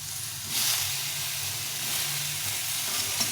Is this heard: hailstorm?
no